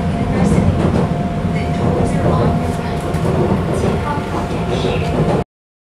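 Steady, loud rumble and rattle of a Seoul subway train riding between stations, with clattering wheels and a faint tonal whine running throughout before cutting off abruptly; voices murmur faintly in the car.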